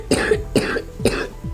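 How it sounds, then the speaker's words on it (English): Three harsh, wet coughs follow chest physical therapy. They come in an even rhythm, close and fairly loud, with a softer fourth hack at the end. "and then I cough a bunch"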